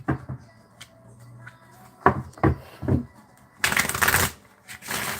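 Clacky keyboard typing in short bursts of keystrokes, close and fairly loud, with a denser flurry of rapid strokes near the end; no voices.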